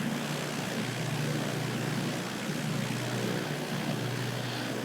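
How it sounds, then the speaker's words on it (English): Small tail-dragger propeller plane in Microsoft Flight Simulator 2024, a steady droning engine hum with a low constant tone, held evenly throughout with no talk. "This is a nice looking plane, isn't it? Nice little tail dragger."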